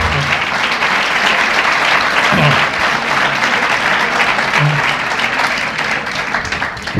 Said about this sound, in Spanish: con un fuerte aplauso y agradeciéndole su presencia entre nosotros